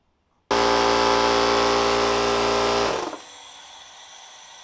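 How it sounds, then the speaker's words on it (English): A shop air compressor switches on abruptly and runs loud and steady with a strong harmonic motor hum, then drops to a lower, quieter running tone for its last stretch. "Let's turn the compressor on."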